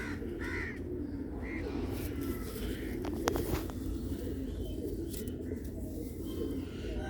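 Sialkoti red-beaded pigeon chicks coo softly in a loft, with low, murmuring calls heard under steady, noisy background ambience.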